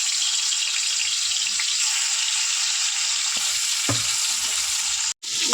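Japanese puti fish fry in hot oil with a loud, continuous hiss and crackle, close up, with a couple of brief knocks and a momentary break near the end.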